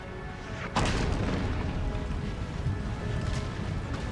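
Cannon firing canister shot in the Empire: Total War video game, a single booming blast near the start followed by a sustained rumbling wash of battlefield noise, with a fainter second report later.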